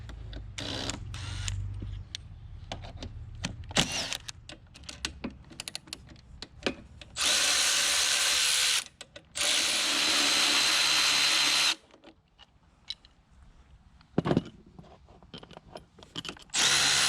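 Power driver spinning out Torx T40 fasteners on a Yamaha Ténéré 700 motorcycle, with several sustained loud whirring bursts of a few seconds each separated by clicks and handling noise, heard up close with no talking.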